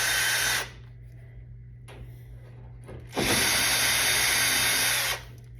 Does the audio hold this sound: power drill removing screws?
yes